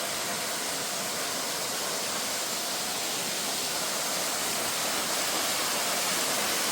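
Waterfalls crash where two falls and rivers meet at Garden of Caves, a dense, steady roar of falling water filling the scene without pause.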